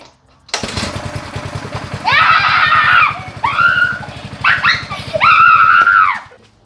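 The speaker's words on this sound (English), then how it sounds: "I'm going to try to run the engine to see the engine's alright" Ryobi 3100 PSI pressure washer engine started and run during a repair, a loud steady rumbling drone throughout, with high squealing and shouting-like sounds rising over it in bursts near the end.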